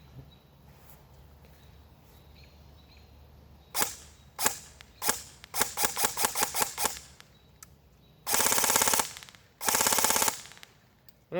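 Elite Force M4 CQB airsoft rifle firing BBs: a few single shots, then a rapid string of sharp cracks, followed by two long full-auto bursts, loud and close with no talking.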